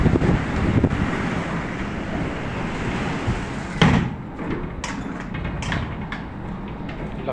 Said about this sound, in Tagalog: Umikot yung hangin kanina galing doon.